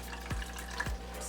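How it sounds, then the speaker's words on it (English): Water pours into a Betta Falls desktop aquarium kit, a continuous close splashing and trickling stream with small gurgles, steady throughout the short stretch. "letting me know how much water to pour in"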